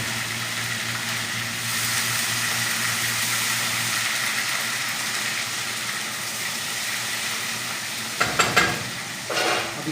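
Whole cumin seeds and ginger sizzling in hot oil for a masoor dal tadka, a steady loud frying hiss throughout, with a few clattering stirs near the end.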